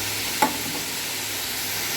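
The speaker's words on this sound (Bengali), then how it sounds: "লাল শাক ভাজা চলছে" Red amaranth leaves frying in a pan: a steady, even sizzle hiss throughout, broken by one short clack of a spatula early on, close and with no talk.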